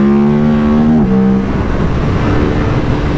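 A 2024 KTM RC 8C, a 142 kg, 135 bhp race motorcycle, screams at high revs with a sustained tonal whine that drops suddenly, then gives way to a rough, rushing roar up close.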